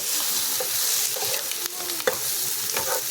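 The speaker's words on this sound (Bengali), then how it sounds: "একটু নাড়াচাড়া করে নিয়ে আমি এটাকে নামিয়ে নিব" Begun bahar, an eggplant dish with garam masala, stirred in a hot pan: continuous loud sizzling with repeated scraping strokes and a few sharp clinks of the spoon.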